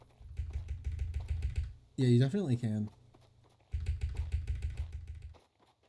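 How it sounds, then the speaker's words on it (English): Rapid clacking keystrokes on a new computer keyboard come in two dense bursts, before and after a short spoken line, fairly close and steady. "You definitely can hear the new keyboard."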